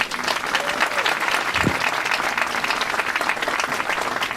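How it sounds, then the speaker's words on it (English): A concert audience applauds the Barnegat High School Symphonic Band and Concert Band at a spring concert, sustained dense clapping with crowd noise running evenly throughout, with a brief low thump partway through. "One more round of applause for them."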